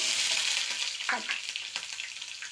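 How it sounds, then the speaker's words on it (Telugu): Mustard seeds, dried red chilli and garlic sizzle in hot oil in a pan, a bright crackling fry with occasional stirring scrapes. "ఒక పాన్ పెట్టుకోవాలి ఆయిల్ వేసుకోవాలి ఆవాలు ఎండుమిర్చి వెల్లుల్లి"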